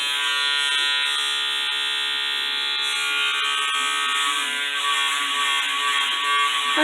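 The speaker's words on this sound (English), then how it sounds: "I need a trimmer." An electric hair trimmer buzzes steadily and close during a home haircut, a bright continuous whine that wavers slightly in pitch as it moves.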